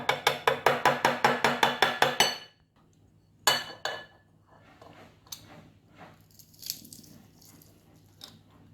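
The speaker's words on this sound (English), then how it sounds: "I'm going to just crush my garlic cloves and I'm going to add them to the pot" Garlic cloves being crushed for Jamaican gungo rice and peas: about a dozen sharp, evenly spaced knocks in quick succession, then a few scattered softer taps and clinks in a quiet kitchen.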